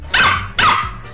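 A dog barks twice in quick succession, loud and close, each bark sharp and slightly ringing before tailing off.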